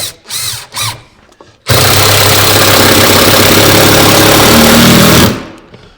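A power drill drives a 2.5-inch screw through a hanging cleat to anchor a cabinet to a workshop wall, a loud steady whir lasting several seconds after a couple of short bursts.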